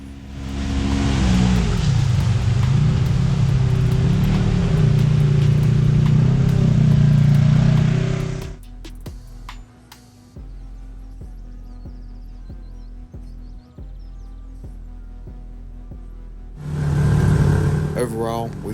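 A Polaris RZR side-by-side with a new Kemimoto belt drives on trails, its engine roaring loud and close with revving swells, then dropping away to quieter sounds before surging again; voices speak in between.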